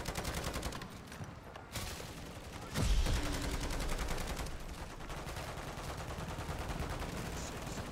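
Continuous gunfire from players shooting zombies in Call of Duty MWZ, dense rapid automatic bursts running nearly unbroken for several seconds with a louder heavy burst midway, no talking over it.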